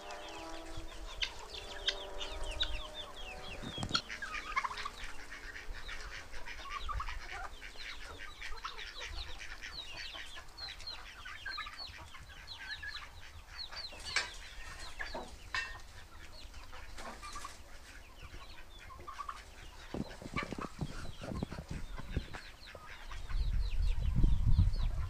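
Hens cluck and squawk steadily inside a farm henhouse holding around 200 chickens, a dense, continuous chatter of many birds at close range with no talk.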